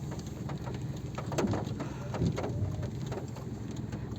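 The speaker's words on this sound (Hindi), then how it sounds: "और झमाझम बारिश हो रही है" Heavy rain pours in a steady, dense hiss while traveling, with rumbling low background noise and faint bird calls, and no talking.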